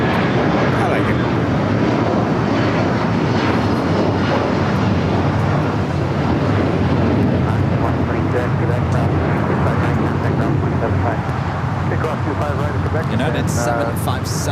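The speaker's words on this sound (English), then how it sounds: "United 757 heading to Newark, 26-year-old, flight 1981." A 26-year-old United Boeing 757 bound for Newark taxis at LAX, a continuous loud jet engine rumble and whine holding steady throughout, with talk faintly underneath.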